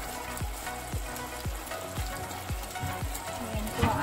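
Sliced onions frying in a pan for a pork steak give a steady sizzle, while a regular series of low thumps repeats about twice a second over it. Faint background noise runs throughout and there is no clear talking.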